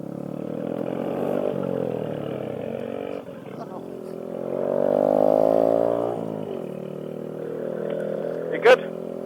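A Honda Grom motorcycle engine drones and revs at low speed while riding through a sticker patch on a bike path, with harmonic engine tones rising and falling up close and people talking over it.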